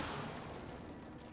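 Grenade blasts in the video game Control: a dense, sustained rumbling boom fills the whole moment, loud and close, with no voice over it.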